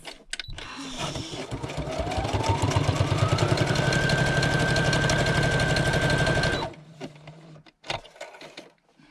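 A sewing machine stitches zigzag lines on a handmade journal, running in one steady, close, rapid mechanical burst for several seconds before stopping, followed by faint handling clicks.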